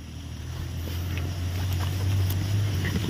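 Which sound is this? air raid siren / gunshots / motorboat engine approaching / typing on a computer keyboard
motorboat engine approaching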